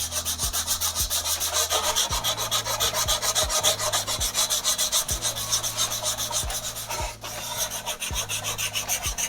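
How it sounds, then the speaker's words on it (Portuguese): Sandpaper rasps steadily across dried putty in regular back-and-forth strokes, close and continuous, with no talking. "Aí você vai lixando"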